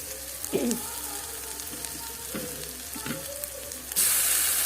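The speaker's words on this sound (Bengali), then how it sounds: "দেখতে পাচ্ছি আদা রসুনটা দিয়ে আমি ভালো করে কষাচ্ছি যতক্ষণ না তেল ছেড়ে আসছে" Ginger and garlic fry in hot oil in a pan for a matar paneer, with a continuous sizzle broken by scraping stirs of a spoon, ending in a sudden louder hiss.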